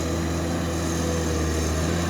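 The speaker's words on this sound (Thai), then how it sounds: "เครื่องยนต์เขาจะกระหึ่มนะครับ โอ้เครื่องยนต์เขาจะ ไม่เงียบเหมือนค่ายอื่นๆนะครับ เพราะว่าใช้เครื่องยนต์6สูบนะ" Komatsu PC210-10MO hydraulic excavator with a six-cylinder engine running, giving a steady, loud, continuous engine drone with a low rumbling hum throughout.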